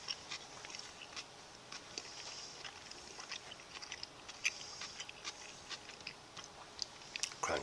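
Close, crisp crunching from chewing freeze-dried imitation crab salad made with a creamy dressing, with scattered sharp bites repeating over a faint quiet background and no talking.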